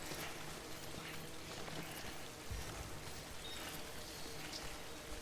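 Steady rain falling in the video game Death Stranding, a dense, even hiss with scattered drips and patters that runs the whole stretch without a break, with no voices over it.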